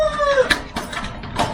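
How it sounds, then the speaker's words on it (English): A homestead rooster crows near a raised garden bed, with a drawn-out tonal call at the start and a few rough, clucking bursts after it. The sound is close and moderately loud. "That rooster may be getting too old"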